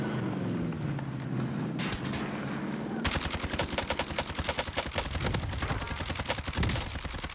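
Rapid gunfire and missile launches in a video game, a dense continuous burst of sharp shots following a rumbling opening, loud throughout.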